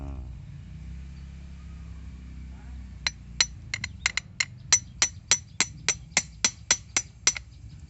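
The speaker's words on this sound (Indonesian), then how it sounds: "kita kalau di atas ini kita gunakan pahat saja untuk melubangi" Sharp, regular chisel or hammer strikes knocking holes into a hibiscus (waru) branch, starting after a few seconds of low rumble and repeating steadily about twice per second, close and distinct.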